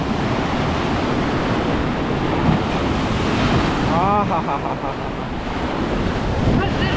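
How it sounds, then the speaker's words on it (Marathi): Ocean waves crash steadily on the shore at Kochi, Kerala, making a loud, continuous roar of surf with gusty wind noise on the microphone and a brief voice partway through. "पाण्याची लाटा बघा काय भारी येत आहेत"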